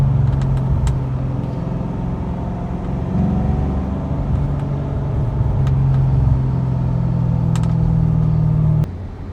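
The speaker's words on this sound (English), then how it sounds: "The gear shifts are really smooth." A 2014 Chevrolet Corvette Stingray with a manual transmission is heard from inside while driving, a loud steady engine drone with rising and falling pitch as gears change and a few faint clicks.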